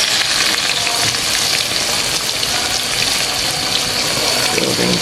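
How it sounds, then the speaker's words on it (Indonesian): Tempeh frying in hot oil, a loud continuous dense sizzle and crackle throughout, close up with no talking. "Goreng tempe."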